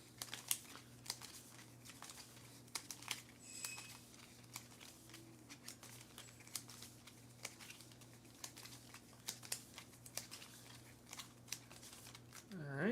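Cards being shuffled during a tabletop session of the board game Earthborne Rangers, with quick, faint riffling and crinkling snaps scattered over quiet room tone, and a low hum underneath.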